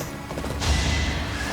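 Hooves landing hard after a horse's jump in Fire Emblem: Three Houses, a sudden heavy thud partway through followed by a lingering broadband rumble, moderately loud with no talking.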